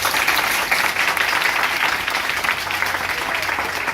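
A church congregation claps together in the name of Jesus during a sermon, a dense, sustained round of applause that stays loud and steady from start to finish.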